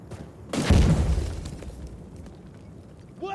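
A single loud grenade explosion in the shooter game Insurgency Sandstorm, a sharp burst followed by a rumbling, slowly fading boom with no talk over it.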